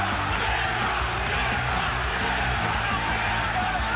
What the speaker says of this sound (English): The crowd urging Ken Shamrock on.